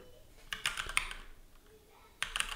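Short clusters of keystrokes on a computer keyboard tap out close by, a few quick clicks, a pause, then another brief burst, over a faint background hum.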